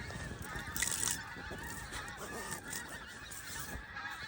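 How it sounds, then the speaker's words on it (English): A large flock of geese passes overhead during torrential rain at a hammock camp, honking steadily in a dense, layered chorus from a moderate distance. "What a way to get woken up by like hundreds of geese flying overhead."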